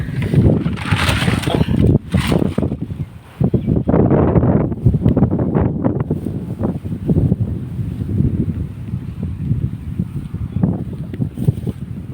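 Strong gusty wind buffeting the microphone in an open farm field, roaring in uneven bursts and easing toward the end, with no voices.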